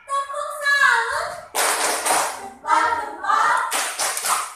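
A primary school class does a rhythmic clapping cheer, bursts of sharp, loud hand claps alternating with children's voices chanting in unison nearby.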